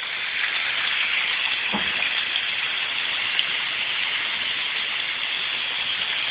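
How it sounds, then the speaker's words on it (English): Meat fries in bubbling oil with a dense, steady, close crackling hiss that fills the whole stretch without pause. "Hopefully the sound of bubbling oil isn't completely cutting out my voice."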